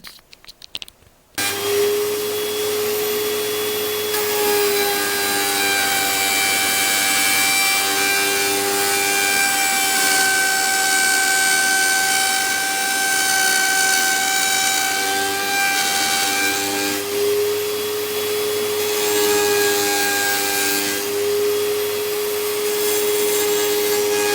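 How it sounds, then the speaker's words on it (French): Wood router milling puzzle-shaped parts for a single bed frame, a loud, steady high-pitched whine that spins up after a few light clicks and runs continuously close by, its pitch dipping slightly as the bit cuts; no talking. "je fixe, je passe à la défonceuse et on voit ce que ça donne"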